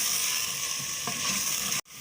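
Mutton frying in a clay pot while being stirred, a steady hissing sizzle with a scrape of the spoon partway through, ending in a sudden brief cut.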